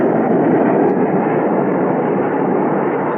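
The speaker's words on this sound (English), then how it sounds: "that's a jet taking off from the north runway" A jet plane roars continuously as it takes off from a runway near a house in a radio drama sound effect, a loud, steady broadband rush filling the whole stretch.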